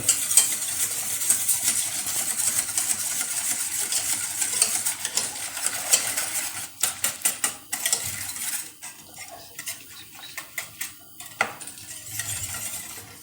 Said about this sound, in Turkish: Biraz telimizden çırpalım onu topak olmasın.